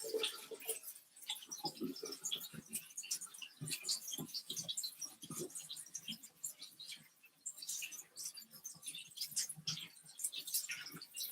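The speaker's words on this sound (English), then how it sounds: "We don't know where the rice was before, so wash it well." Rice rinsed by hand under a cold running tap, giving a steady soft patter and splash of water with scattered grain-rubbing clicks, moderately close and without talk.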